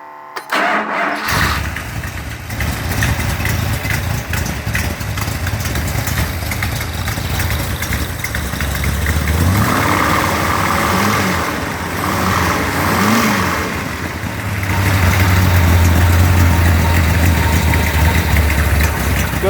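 A Mopar 360 crate engine on a test stand cranks, fires up and settles into a loud, steady idle with a lopey cam rhythm, then revs up briefly and holds a higher note, no talk.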